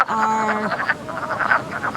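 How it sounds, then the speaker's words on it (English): Wood frogs croak at a vernal pool in spring, a chorus of short, clucking calls repeating close by over a steady wash of background noise, with no voices. "Not only are we hearing and seeing wood frogs and seeing spotted salamanders"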